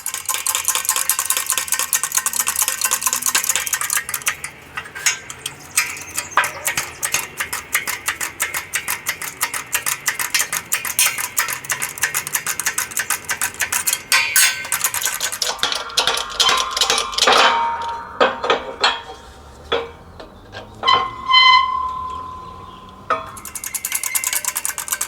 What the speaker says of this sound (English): the bushing has been pressed